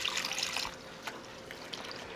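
Water poured into a coo coo mixture of cornmeal and okra in a Trinidad home kitchen, a brief close trickle and splash at the start, then quieter dribbling and small drips.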